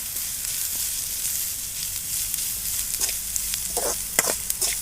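Grated coconut sizzles and fries in a pan while being stirred for a coconut palya, a steady close crackle with a few sharper scraping stirs near the end.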